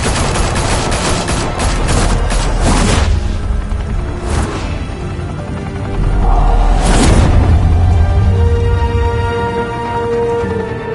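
Rapid gunfire crackles in the Batman Telltale game, loud, dense bursts of shots with booming hits and whooshes layered over a steady action score.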